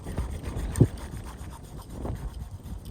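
A hard stainless carpet cutting wheel gets a quick tune-up on a sharpener, making soft, irregular rasping and rubbing strokes close by, with a few sharper scrapes.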